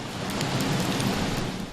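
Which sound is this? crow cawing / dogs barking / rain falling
rain falling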